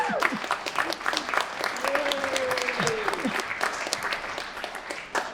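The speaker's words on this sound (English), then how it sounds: "Thank you for the applause" Audience applauding an elderly woman comedian at a stand-up show: dense, steady clapping throughout, with a voice speaking briefly over it partway through.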